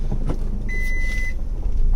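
The reverse parking sensor on a Maruti Alto CNG gives a single clear, steady electronic beep lasting over half a second, heard over the low rumble of the car reversing.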